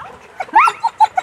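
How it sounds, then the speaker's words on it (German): A small dog gives a few quick, close yips and whimpering barks, spaced irregularly over about a second. The room is otherwise quiet. "Guter Hund."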